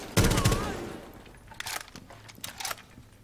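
A rapid-firing gun in Rainbow Six Siege lets off a sharp burst at the start, then two shorter bursts follow a second or so apart, close and loud against a quiet background.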